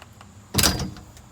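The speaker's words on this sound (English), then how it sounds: "So when I open the door," Door of a 1987 Ford Ranger fitted with tube half doors opening, a single short metallic latch clack and rattle, close and clear in a quiet setting.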